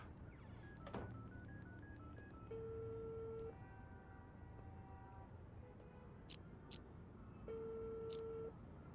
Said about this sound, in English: let's stay in here and listen to the phone call.